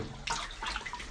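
Water gushes from a traditional wooden Japanese bath tank after its plug is pulled, a short close splashing burst that trails into softer trickling and gurgling.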